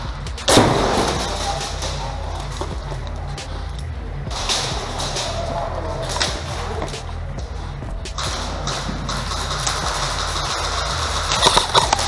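Airsoft gun shots crack out during a siege-style airsoft game, a few sharp snaps spread over a steady outdoor background with scattered clicks and movement.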